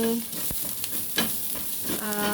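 Ginger frying in hot oil for a fish dish with tomatoes and carrots, a steady close sizzle with scraping stir strokes and brief clatters, no talking.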